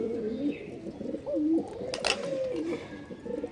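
Pigeons coo in low, rolling phrases, repeated close by on a rooftop at dawn, with a short sharp rustle partway through.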